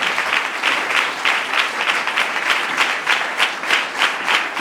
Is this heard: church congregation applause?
yes